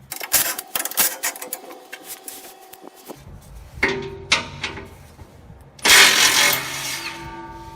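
Metal bolts clink and rattle as a wrench works 13 mm fasteners out of the skid plate on a 2004-2014 Ford F-150 with the 5.4L 3V engine, in short irregular bursts, with a louder clattering spell near the end.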